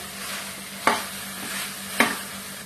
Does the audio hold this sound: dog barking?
no